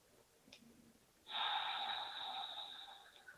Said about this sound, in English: That inhale through your nose, that exhale through your nose.